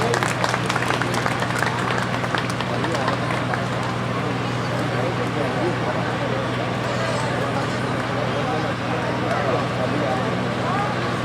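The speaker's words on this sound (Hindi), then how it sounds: "आप लोग भी तालियां बजाएंगे, कम ऑन एवरीवन।" Audience at an award ceremony applauding steadily, a dense continuous wash of clapping that holds throughout at a constant level with a low hum beneath.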